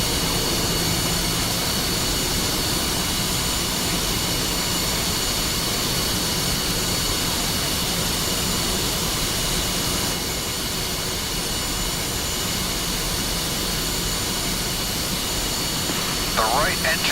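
A jet engine runs loudly and continuously during an engine start with external compressed air in the DCS flight simulator, a dense steady roar with a faint whine, a voice speaking over it.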